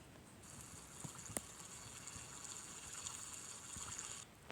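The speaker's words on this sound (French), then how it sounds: "on éteint le robinet, on allume le robinet" Tap water runs in the game Avatar World, a soft steady hiss of flowing water starting and then cutting off, faint and alone.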